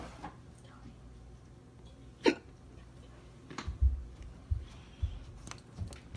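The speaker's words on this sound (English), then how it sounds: "Got the hiccups." Several human hiccups pop out at irregular intervals, one sharp and loud near the start and a run of softer ones later, set against quiet room noise at a poolside gathering.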